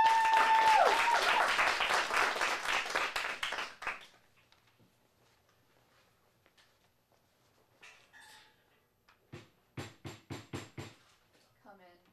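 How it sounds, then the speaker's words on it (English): An audience at a teen showcase claps loudly for a scene performance, a dense burst of applause lasting about four seconds before cutting off into near silence, followed later by a short series of sharp knocks and faint voices. "Let's give them a round of applause."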